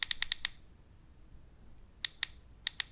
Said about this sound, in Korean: 그걸 조절할 때는 버튼 3번 누르시면 됩니다.